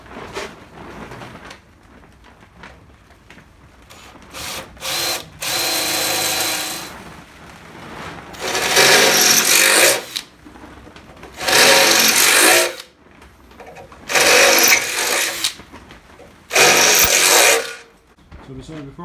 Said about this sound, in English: So we'll start by drilling these holes which need to be 10mm